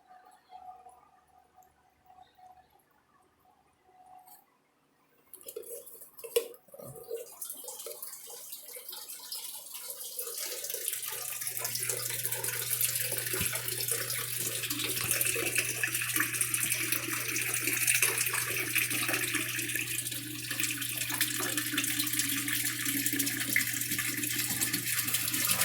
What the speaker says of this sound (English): Once it fills up so much, it'll drain back down, start sucking air, and it'll break the siphon.